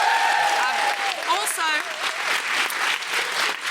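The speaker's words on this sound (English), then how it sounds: "Big round of applause for Mairead." A live comedy podcast audience applauds for Mairead, an audience member, with loud, sustained clapping and cheers filling the room while a voice speaks over it.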